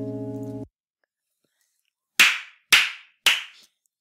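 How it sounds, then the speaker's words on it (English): Three sharp, separate hand claps ring out alone after a short tone and a stretch of silence, spaced about half a second apart. "I'm clapping"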